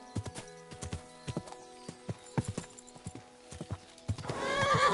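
Horse hooves clip-clopping at a steady rhythm with neighs and whinnies, from a ridden horse in the medieval game Kingdom Come: Deliverance II, ending in a louder rush of movement.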